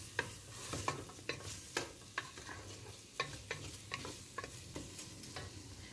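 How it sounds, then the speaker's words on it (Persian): Meat and onion sauté with turmeric, ground coriander and pepper in a pot, a soft sizzle under repeated sharp scrapes and clacks of a utensil stirring, close and fairly quiet with no voices. "یکم زردچوبه، پودر تخم گشنیز و فلفل اضافه میکنیم و با ادویه ها یکم تفتش میدیم"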